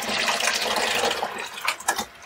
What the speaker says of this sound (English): You can basically just fill that up with water.